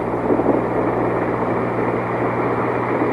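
A recovery helicopter hovers over the ocean to lift astronauts in a basket, giving a steady, loud, continuous rotor and engine drone with no break throughout.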